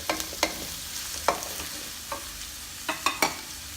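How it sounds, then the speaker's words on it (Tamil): Onions sautéing in hot oil with cinnamon, cardamom and cloves for a Tamil-style minced meat rice, stirred in a pan with a soft steady sizzle and a few sharp spoon scrapes, close and alone. "வெங்காயம் கொஞ்சம் நல்லா வதங்கட்டும்."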